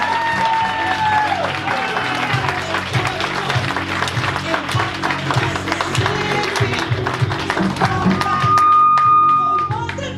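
A crowd at an NAACP Freedom Fund event claps and cheers loudly and continuously, with scattered whistles and voices in the mix.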